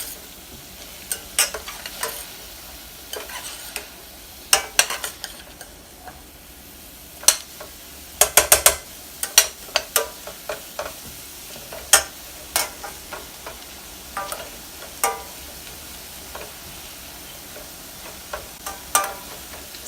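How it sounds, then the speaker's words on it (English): Apples with cinnamon and nutmeg being stirred in a pan: a soft, continuous sizzle broken by sharp clicks and scrapes of the utensil against the pan, close and without speech. "So I'm going to stir this up."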